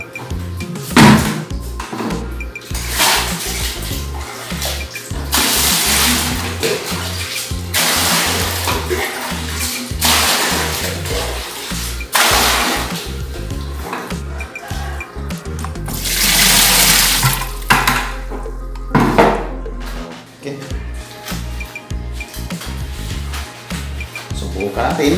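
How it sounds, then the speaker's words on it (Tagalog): Water poured into a washing machine tub during a drain-problem repair, a loud rushing, splashing flow in repeated bursts with a sustained heavy pour midway, close by, with a low hum underneath. "Buhusan na natin ang tubig, maglaba na tayo."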